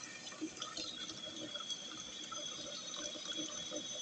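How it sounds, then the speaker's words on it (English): A fully opened tap gives only a thin trickle of water, a faint steady splatter and hiss with small irregular drips, alone without speech. "This is as high as it goes in terms of turning on the tap."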